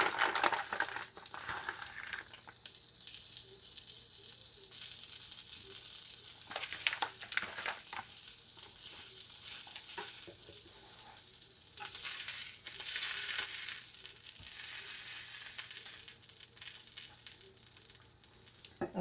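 Leftover shredded sharp cheddar melting in a hot pan, crackling and sizzling continuously at close range with occasional crinkly bursts and spatter, no voices.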